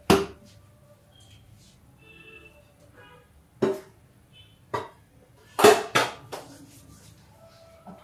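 A metal lid goes onto a pot during cooking of porridge (dalia) with ghee, giving several sharp clanks and clatters spaced a few seconds apart, close by, over a quiet kitchen background.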